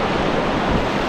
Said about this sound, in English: we've got some river crossing action right here